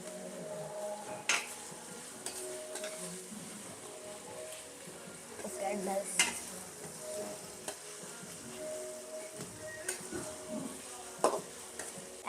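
Kolam rice being stirred into softened tomatoes in a pan, with a lemon squeeze added: a spoon scrapes and clinks against the pan in irregular strokes over a soft sizzle, close and moderately loud, with no talk.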